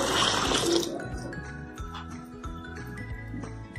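About one and a half cups of water is poured into a cooking pot for mushroom peas pulao. A loud gush of pouring opens the clip and fades within a second, leaving clinks and faint kitchen sounds.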